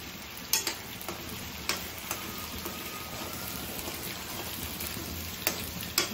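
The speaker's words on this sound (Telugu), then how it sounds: "ఇది బాగా వేగాలి పచ్చివాసన పోయే వరకు" Masala frying in a pan for prawn pickle, a dense steady sizzle like light rain, with occasional soft stirring scrapes and taps, no voices.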